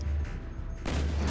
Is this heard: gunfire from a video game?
yes